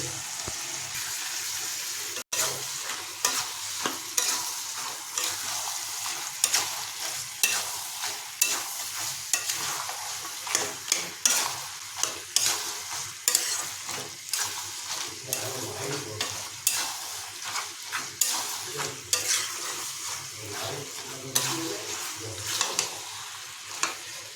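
Boiled peas are stir-fried in goat mutton fat in a kadai for mutton ghugni. A constant close sizzle runs under repeated rhythmic scrapes and knocks of a spatula, which come every second or so.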